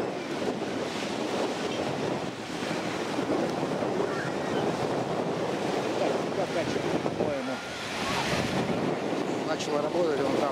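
Sea surf rolls onto a Crimean beach in a steady, continuous wash with wind buffeting the microphone, the waves near and moderately loud throughout.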